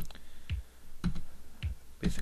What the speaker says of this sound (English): Using the greater than or less than keys, we'll cycle through the objects